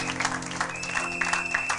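A church congregation claps during a worship service, a soft, steady patter of applause heard faintly at a distance over a low sustained musical hum.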